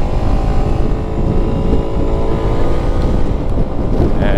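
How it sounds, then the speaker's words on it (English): A Suzuki Burgman 200 scooter accelerates onto a highway, its steady engine drone mixed with heavy rushing wind noise across the microphone, continuous and loud throughout. "we'll do an acceleration here onto the highway again"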